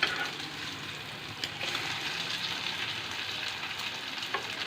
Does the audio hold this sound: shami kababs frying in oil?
yes